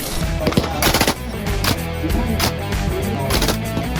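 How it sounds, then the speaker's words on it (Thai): Rapid gunshots from a SIG Sauer MCX LT rifle at an outdoor military demo-day range, a loud string of sharp cracks fired in quick bursts with short pauses between them. "อันนี้ตัว MCX LT นะคะน้องโมยิงก่อน"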